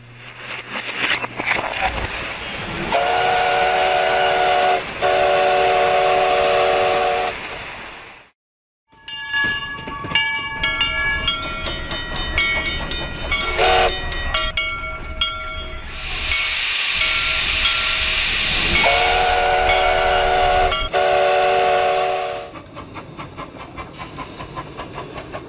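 A steam locomotive runs at the Hesston Steam Museum in LaPorte, Indiana. Loud, continuous steam hiss and chuffing are broken by several long, sustained whistle blasts, with a brief quiet gap partway through.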